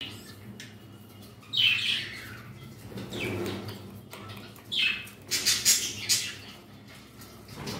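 Pet bird chicks kept indoors give high squawks and chirps in scattered bursts, with a cluster of rapid calls near the end, set against a quiet room hum.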